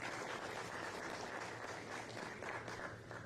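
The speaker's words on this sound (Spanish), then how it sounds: "Un aplauso, por favor, también." Applause from an audience at a panel discussion, a dense even wash of many hands clapping, steady and moderately distant with no break across the clip.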